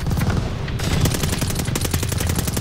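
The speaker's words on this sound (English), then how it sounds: "Watch that machine gun!" Rapid machine gun fire rattles continuously at close range in the World War II shooter Call of Duty: Vanguard, loud, dense bursts layered over booming battle noise.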